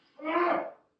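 A single short, breathy possum sneeze bursts out close by and fades within a second, with nothing else around it.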